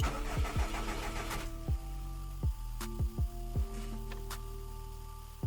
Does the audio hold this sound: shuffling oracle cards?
no